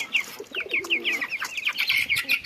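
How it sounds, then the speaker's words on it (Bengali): Pigeons coo outdoors in a quick run of repeated soft calls, close and clear, with a faint flutter of wings and no talk. "বাইরে কবুতরের ডাকে, কবুতরের ডাক"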